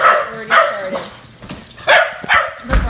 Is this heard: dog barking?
yes